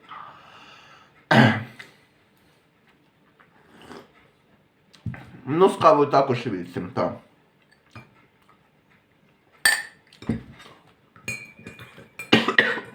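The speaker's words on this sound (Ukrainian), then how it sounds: "Задовбав цей кашель. Мучить і мучить мене." A few sharp coughs and throat-clearing bursts break up otherwise quiet surroundings, with someone speaking briefly between them.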